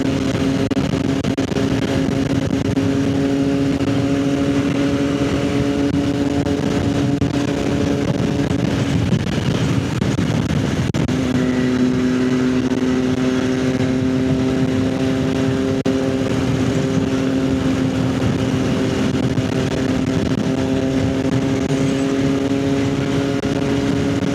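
A steady motorcycle engine drone with a strong harmonic hum, loud and continuous throughout, briefly shifting pitch midway as if changing gear while riding.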